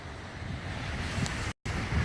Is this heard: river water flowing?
yes